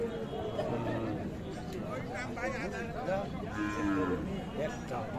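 A young cow with her bull calf at a cattle market gives a low moo partway through, set against a dense background of crowd babble and people talking close by.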